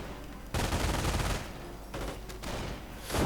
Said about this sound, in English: there we go, another mine goes off